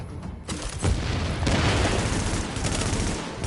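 Gunfire in the video game The Division: dense, loud, continuous volleys of shots and booms with no clear pauses between them.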